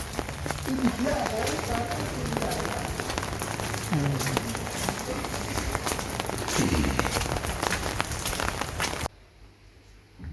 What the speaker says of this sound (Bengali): আজ বৃষ্টি হচ্ছে